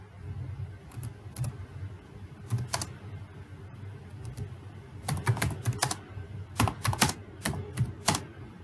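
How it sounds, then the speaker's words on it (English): Someone types on a computer keyboard in short clusters of crisp key clicks, near and distinct, with pauses between bursts and a low room hum underneath. "I'm typing"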